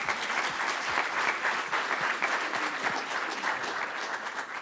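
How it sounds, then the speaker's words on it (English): An audience at a five-minute pitch contest applauds, giving a full, even burst of many hands clapping that carries steadily throughout without talk over it. "So a quick round of applause"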